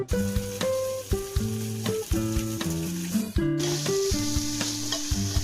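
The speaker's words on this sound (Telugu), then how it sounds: "కొబ్బరి పొడి వేసుకున్నాక కలర్ చేంజ్ అయ్యేదాకా కలుపుకోవాలి" Coconut powder is stirred into chicken curry with ginger-garlic paste as it fries, with a close, loud sizzle and repeated clattering spoon-scrapes against the pan in an uneven rhythm, no voices.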